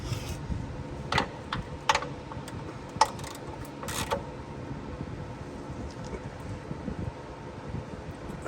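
A ratchet wrench works on a Ford F-150 pickup, giving a handful of scattered metallic clicks over a low, steady background rumble, fairly faint and close.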